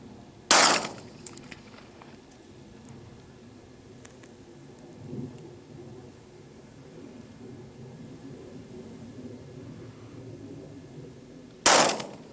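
Two loud, sharp Glock 19 Gen 4 pistol shots, one early and one near the end, fired at a target 200 yards away outdoors, with quiet ambient background between them.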